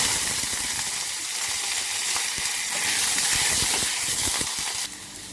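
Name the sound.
mustard seeds sizzling in hot oil during tempering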